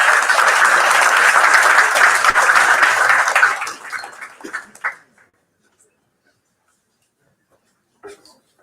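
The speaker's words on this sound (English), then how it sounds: "Let's give a big round of applause for these unbelievable award winners." Audience applause at an award presentation during a pro athlete investor panel event, loud and dense for about three and a half seconds, then thinning into a few scattered claps before fading to silence, with a brief sound near the end.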